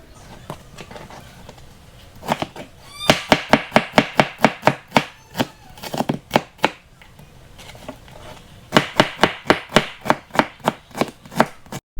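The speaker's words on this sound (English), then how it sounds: "now we're gonna chop up an onion real quick." A knife chops an onion on a cutting board in quick, steady bursts of sharp knocks, with a pause in the middle before a second fast run; close and crisp, with no talking.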